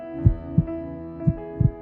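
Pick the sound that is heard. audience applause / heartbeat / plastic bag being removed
heartbeat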